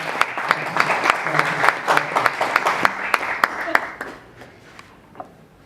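Applause from an audience welcoming a woman panelist at an energy panel discussion, a burst of distinct claps that thins out and fades after about four seconds, leaving scattered final claps.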